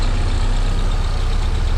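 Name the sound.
VW MK3 Golf engine starting and running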